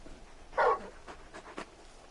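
Torgal, the large dog companion in Final Fantasy 16, gives a few soft panting breaths and a brief whimper-like sound, close and fairly quiet over low background ambience.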